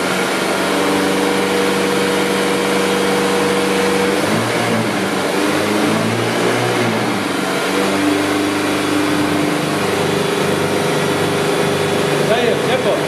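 An Audi car engine revs steadily during an exhaust opacity test, a loud continuous drone whose pitch steps up and shifts as it is pushed harder, with voices talking over it.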